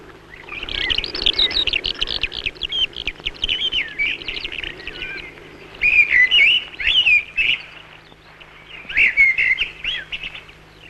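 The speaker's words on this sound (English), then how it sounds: "the birds still go crying in the empty air" Birds call in bursts of high, rapid chirps and warbles, fading and returning several times over quiet open-air background on empty grassy hills.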